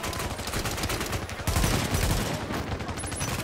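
Dense gunfire in the video game The Division, a close, loud fusillade of rapid automatic shots with a heavier burst midway, continuous throughout.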